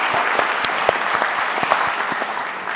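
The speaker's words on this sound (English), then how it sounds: "Round of applause." An audience at a high school student TV showcase applauds for a middle school teacher, with close, loud claps over a steady crowd roar that tapers slightly toward the end.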